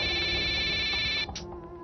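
A phone ringing with an incoming call, a loud electronic ringtone with steady tonal pulses that cuts off abruptly partway through, leaving quieter room sound.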